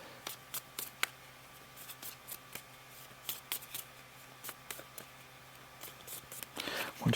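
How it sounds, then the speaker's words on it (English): A deck of game cards being shuffled during a tabletop Legendary Encounters session, with repeated crisp riffling snaps and taps in an irregular rhythm, close and fairly quiet. "I need to shuffle."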